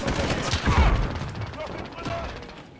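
Shotgun blasts from a French-language first-person shooter match, a sharp burst near the start followed by a busier clatter of gunfire and mechanical noises, with a voice partly audible.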